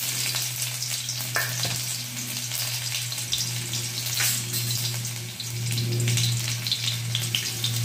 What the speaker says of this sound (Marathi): थोडंसं तेल तापले. मोहरी देते टाकून. थोडीशी जिरी.